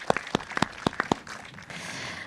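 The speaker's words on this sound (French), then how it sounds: "Je pense qu'on peut applaudir Hélène pour son exercice" An audience at a panel discussion applauds a participant after a live visual-summary drawing. A few sharp, separate hand claps come first, then they fade into a softer, thinner wash of clapping.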